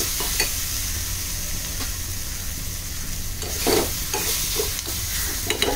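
Malvani masala with Kashmiri chilli powder and coriander-cumin powder is stirred in a hot pan, giving a steady sizzle with spoon scrapes that cluster in the second half.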